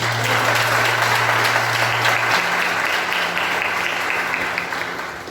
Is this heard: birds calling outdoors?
no